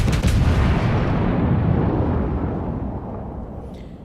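Heavy guns of the battleship Texas fire in a naval video game, a loud sustained roaring blast that slowly decays over several seconds with no voices.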